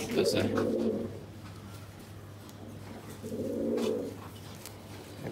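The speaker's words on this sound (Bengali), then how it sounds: "কবুতরটা ছটফট করতেছে।" Two bursts of low, rolling cooing from a pigeon held for wing-feather clipping in a loft, separated by a quieter stretch, with a faint steady hum and some talk nearby.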